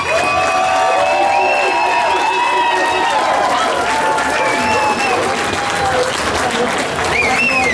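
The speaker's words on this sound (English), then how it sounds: "So, give a round of applause to GrimmGreen for..." A crowd at a live roast event bursts into loud, sustained applause and cheering, dense clapping mixed with whoops and shouts close by.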